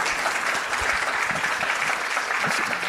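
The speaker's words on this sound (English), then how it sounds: "let's give Brandy a round of applause then for being here" A room full of people applauding steadily for a guest at a Love Fosters Hope gathering, a dense, even wash of clapping held at constant loudness with no pause.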